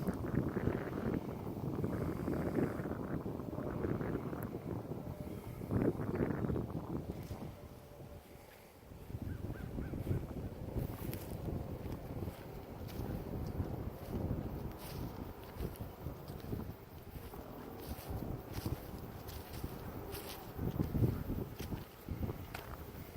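Strong wind buffets the microphone on an early morning walk outdoors in open country, a steady, loud roar with gusty surges throughout, briefly dropping around the middle before building again.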